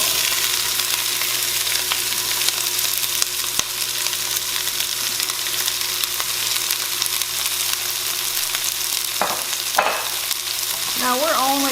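Vegetables frying in saved bacon fat for canned jambalaya, a steady loud sizzle with occasional stirring clatter near the end.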